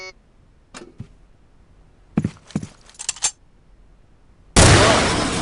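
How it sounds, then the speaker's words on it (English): Pistol shots fired at a target in a firing range booth in Soldier of Fortune II: Double Helix: a few sharp cracks in the middle, then a loud burst of broad noise near the end. "Pick up the pistol in the first firing range booth, aim it at the target, and fire away."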